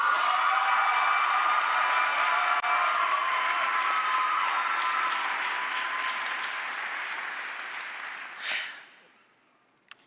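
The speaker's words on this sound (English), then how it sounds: "Cheer loudly." University convocation ceremony crowd applauding and cheering for an incoming speaker, loud sustained clapping that slowly fades and tapers off near the end, followed by a brief sharp sound.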